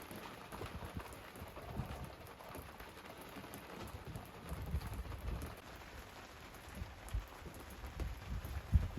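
Torrential rain pours steadily at a coastal boat anchorage, a dense continuous hiss with heavier drops and low rumbling thuds scattered throughout.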